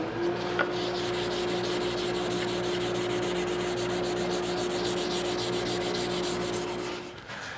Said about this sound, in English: just to do a little bit of 400 grit sanding over the entire surface of the whole body